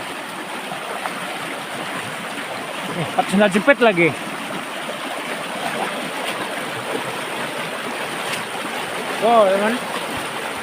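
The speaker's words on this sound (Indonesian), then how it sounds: "Deras guys, arusnya deras. Dan suaranya agak berisik nih ya teman." A fast-flowing river current rushes as a continuous broad hiss beneath nearby chatter, with people speaking briefly over the steady water noise.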